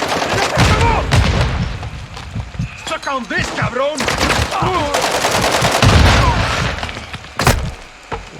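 Rapid bursts of gunfire crack over a dense battle din in Call of Duty: Warzone 2.0, with booming explosions and whistling sounds; voices shout briefly among the shots.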